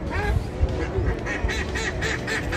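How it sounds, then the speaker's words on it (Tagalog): A duck quacks loudly and repeatedly in a busy, noisy setting, the harsh calls coming in quick bursts over steady background din. "Ay, ang ingay na pato."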